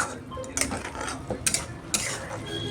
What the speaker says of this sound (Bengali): এখন আমি আলুটা দিয়ে দিচ্ছি।